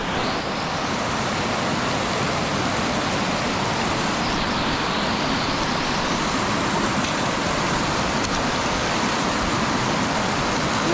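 Strong, steady rush of a flowing mountain stream above the Arctic Circle in Sweden fills the whole clip, a dense broadband roar with no pauses and no voices.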